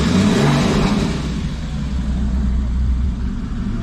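A 2014 Porsche Boxster S engine turns over and settles into a loud, close, steady low rumble that eases slightly toward the end.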